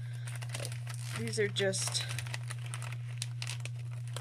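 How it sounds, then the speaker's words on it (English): Plastic packaging of scrapbooking supplies crinkles in bursts of rustling, close to the mic, while someone talks over it and a steady hum runs underneath. "Sorry about the crinkling, guys."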